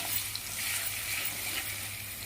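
Garlic paste fries in a pan for an Odia mutton curry, giving a steady, close hiss and sizzle with no talking.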